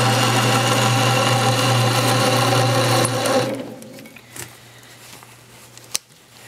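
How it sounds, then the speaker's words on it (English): A metal lathe running in reverse while cutting threads gives a steady mechanical whir with a strong low hum, then stops abruptly partway through, leaving faint room noise and a few small clicks. "This lathe is reversing, so it makes it a little easier to cut threads."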